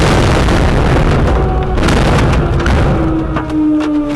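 Artillery shells exploding during the shelling of Ganja, Azerbaijan: a dense, continuous roar with heavy booms and bursts rolling over one another, loud and close, with no voices.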